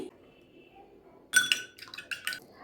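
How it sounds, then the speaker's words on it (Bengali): An egg is cracked against a bowl while milk powder batasha sweets are being made: a sharp close tap, followed by a few quick clinks of shell and dish. "একটি ডিম ফাটিয়ে নিচ্ছি"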